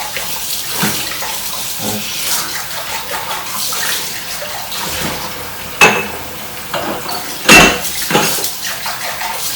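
Tap water runs steadily while soapy dishes are rinsed at a sink, with a few louder splashes and clinks near the end; no talking over it.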